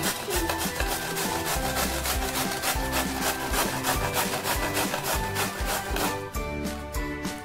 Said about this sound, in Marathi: आता हा कोबी मी किसणीवर किसून घेते।